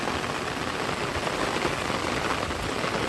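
Rain falls steadily outdoors in rural Konkan amid fog, a dense even patter on surfaces that holds at a constant level with no voices.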